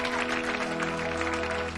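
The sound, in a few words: audience applause for comedians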